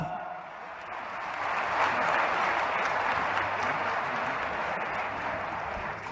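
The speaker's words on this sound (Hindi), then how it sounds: "जोरदार तालियों के साथ" Steady applause from a large crowd at a public government event in Sagar, Madhya Pradesh, swelling slightly and holding at a loud, continuous level.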